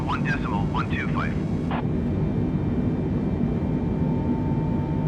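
Boeing 747 engines in Microsoft Flight Simulator 2020 give a steady, loud, low roar throughout, with a brief radio voice over it at the start.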